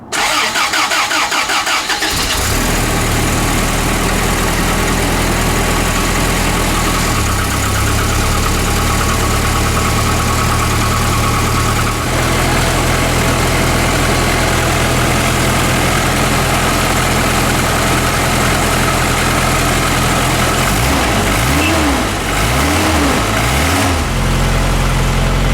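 An Isuzu Amigo with an exhaust leak cranks and fires up, then settles into a steady, loud idle that shifts pitch a couple of times, with a wavering revving near the end.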